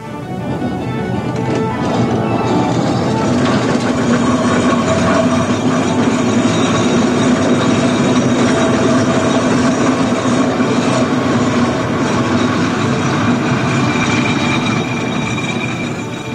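Showman's steam traction engine working at the Great Dorset Steam Fair, giving a loud, steady mechanical rumble and chuffing churn that runs unbroken throughout with no voices.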